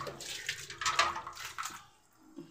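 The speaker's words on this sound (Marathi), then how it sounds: "पूर्ण पाणी टाकून" Water splashes over an old clay matka as it is rinsed clean, a close, bright gush that swells and fades over a couple of seconds before dropping to near quiet.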